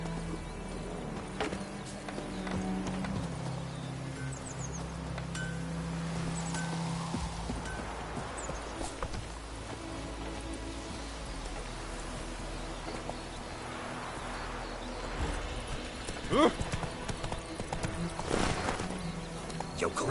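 Roach the horse gallops in a PS4 video game, with faint rhythmic hoofbeats under game music and ambience and a brief whinny near the end.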